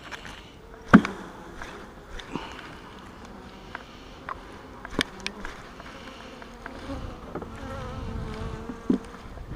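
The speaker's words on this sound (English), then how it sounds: "I better not put these bees in that other hive though." Honeybees buzz continuously around a hive, with occasional sharp knocks and clicks as the frames are handled nearby.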